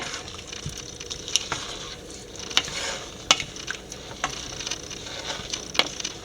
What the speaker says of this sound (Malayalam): നല്ലപോലെ എല്ലാം ഒന്ന് കൂട്ടി യോജിപ്പിക്കുക